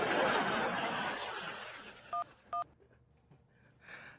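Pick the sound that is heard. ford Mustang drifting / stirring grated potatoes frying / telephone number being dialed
telephone number being dialed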